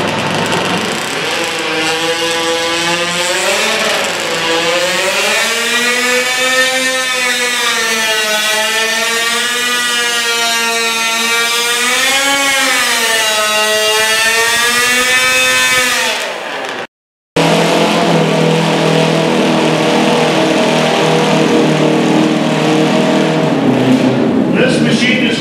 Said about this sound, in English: then we're going to engage the gear with the clutch. Here we go.